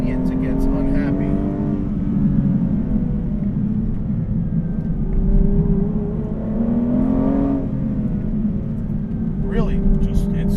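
An Aston Martin V12 Vantage S with a manual gearbox pulls hard out of a corner from around 4,000 rpm, its steady engine drone rising in pitch under continuous talk from inside the car.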